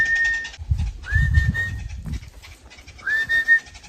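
Short honeyguide bird calls with rising whistled notes, repeated a few times, mixed with low thumping handling noises nearby and some faint background rustle in a forest.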